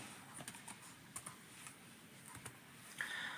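Soft, quiet keystrokes on a computer keyboard while entering a transaction in Sage accounting software, irregular taps in short bursts with gaps, ending in a brief louder rattle.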